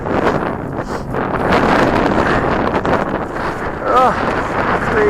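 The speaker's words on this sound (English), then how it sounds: "That is so windy." Strong outdoor wind buffeting the microphone in a constant loud, rumbling roar for several seconds, with a voice briefly audible underneath.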